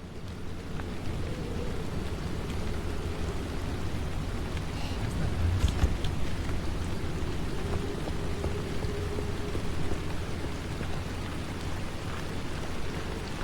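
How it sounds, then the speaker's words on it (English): Rain falling in the video game Pacific Drive, a steady hiss of drops pattering on surfaces, with low rumbling and a faint tone underneath, continuous and fairly loud with no talking. "I love the sound of rain."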